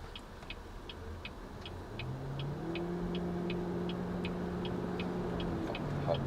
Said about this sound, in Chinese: 然后现在我可以从0开始，带你体验一下这个车的一个弹式启动。